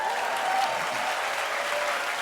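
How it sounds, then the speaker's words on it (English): A packed audience at a Black cinema celebration show applauds, a brief burst of steady, fairly distant clapping with faint crowd voices mixed in. "Give a round of applause for that."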